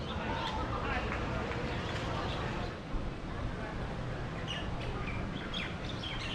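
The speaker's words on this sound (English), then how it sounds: "Love hearing the sounds of all the native birds chirping away." Native Hawaiian birds chirp and tweet in scattered bursts near a sand dune property on the coast, faint over a constant roar of wind or surf.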